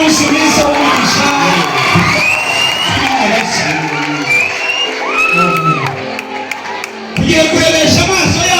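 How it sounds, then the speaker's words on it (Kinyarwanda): A crowd cheers, whoops and shouts loudly and continuously at a pastor's ordination ceremony, with voices mixed throughout and a brief dip near the end before the noise surges back. "Ukomere bana amashyi kuko uyu munsi mwiza w'umugisha"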